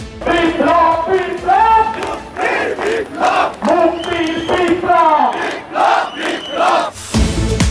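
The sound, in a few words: crowd chanting slogans at a mass rally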